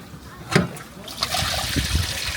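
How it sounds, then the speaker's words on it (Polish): Water is poured out of a boat, starting with a brief splash and then settling into a steady trickle and gush that runs to the end. "Teraz można wodę tu wylać."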